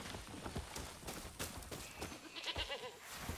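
A goat bleats faintly in Far Cry 6, a short wavering cry set in a quiet outdoor scene with soft background noise.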